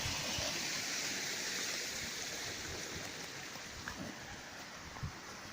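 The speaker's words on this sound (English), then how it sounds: "I found this beautiful thing, little waterfall" Small waterfall in woodland, a steady full rushing and splashing of falling water heard close and alone, constant throughout with no voices.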